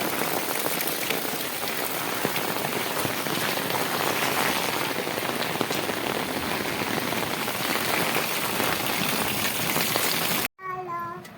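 Heavy rain pours steadily over a market street, a dense close hiss of drops on surfaces, ending with a sudden cut and a brief voice.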